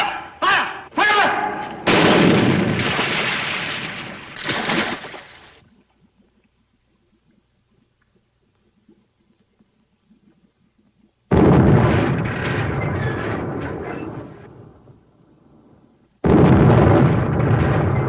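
Heavy German guns fire in a 1943 World War II submarine battle scene, loud rapid bursts and blasts in two clusters separated by a long near-silent pause, with shouted voices over the opening volleys.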